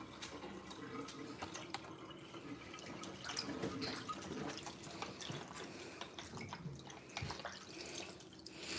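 Tap water runs steadily into a kitchen sink while soaked dried fish is rinsed by hand, a continuous close splashing with irregular drips and handling noises.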